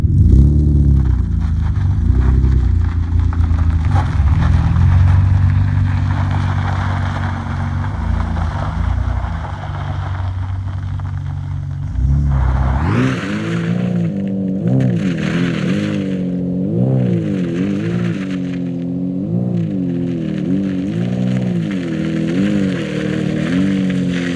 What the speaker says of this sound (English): Pull on the BMW inside the garage so we can switch the diffs.